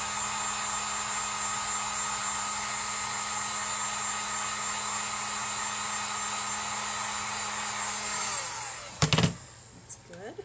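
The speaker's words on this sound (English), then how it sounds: "I'm going to have to dry it again." Hair dryer blowing steadily and fairly loud on a handmade craft lighthouse, running continuously for several seconds, then switched off near the end, followed by a few short handling clunks.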